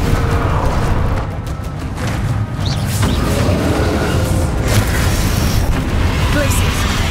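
Spell blasts from Bombarda and Confringo in the video game Hogwarts Legacy, a dense run of booming magical explosions layered with game effects and continuous loud combat noise, with a voice speaking over them.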